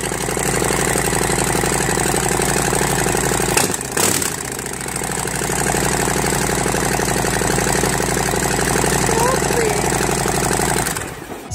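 Motorcycle fitted with a Vance & Hines staggered full exhaust idling close up, a loud steady low rumble with a brief blip near the middle, then settling back to an even idle until it cuts off at the end.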